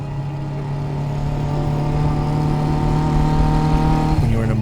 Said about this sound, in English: Driving a pre-war Aston Martin is a really great sensory experience.